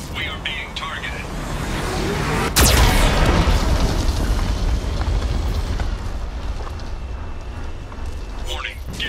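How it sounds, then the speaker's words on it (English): Geth cannon fire from the Mass Effect 2 video game, with a sharp, loud boom near the start of the third second followed by sustained rumbling and blast debris that stays dense and heavy to the end. "Warning, Geth cannon is locking on our location."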